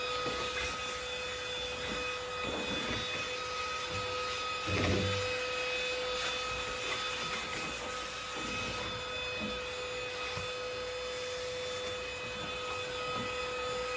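A vacuum cleaner runs on a couch with a steady high motor whine, muffled and fairly faint. Soft bumps and scraping of the nozzle against the cushions come and go, with a louder knock midway.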